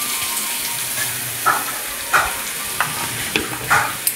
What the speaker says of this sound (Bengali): এটা একটু হালকা ভেজে নেবো আদা রসুনটা, যাতে কাঁচা গন্ধটা চলে যায়।